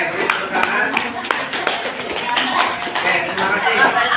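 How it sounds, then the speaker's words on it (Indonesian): A classroom crowd claps steadily throughout, dense overlapping hand claps filling the space, with voices mixed in. "Beri tepuk tangan."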